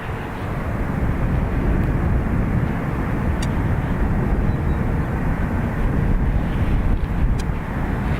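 Ryanair jet rolling for takeoff on runway 28 right at Dublin Airport, a loud continuous roar of engine thrust with heavy wind rumble, holding steady throughout.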